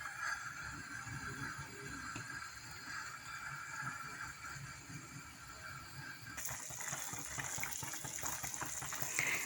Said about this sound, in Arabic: صافي نكبوا الماء عينكم ميزانكم